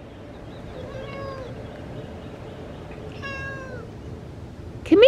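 A cat meows several times, with drawn-out mewing calls spread across the clip and a louder, sharper meow at the very end, over a low background hum.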